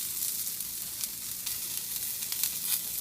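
Carrots, beans and other vegetables sizzle steadily in a frying pan for a Spanish vegetable tortilla omelette, a close, continuous hiss with faint scraping, no voices.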